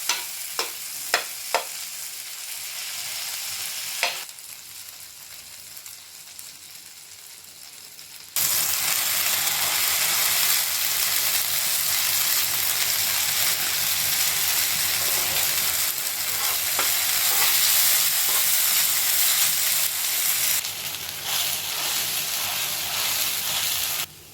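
Pav bhaji cooks with butter in a pan: a few sharp utensil knocks and stirring at first, then a loud, continuous close-up sizzle that holds for most of the clip before cutting off.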